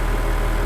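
A CC 8574 floating head rider saw's engine runs with its blades stopped, a loud, close, steady mechanical drone with a dense low rumble and no voices over it.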